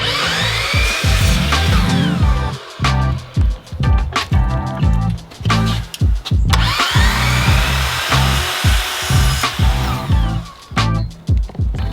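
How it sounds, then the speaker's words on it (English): A miter saw with a large blade cuts miters on trim during a bedroom makeover, giving loud, close, repeated whining and grinding bursts with brief dips between cuts. "I get real jumpy when I'm cutting miters on this giant blade."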